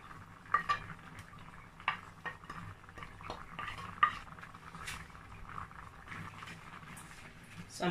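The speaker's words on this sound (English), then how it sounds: "I'm going to mix it gently because beans can be very stubborn sometimes" A spoon scrapes and clinks against a pot of beans and sweetcorn in irregular strokes, with soft kitchen clatter and a faint background hum.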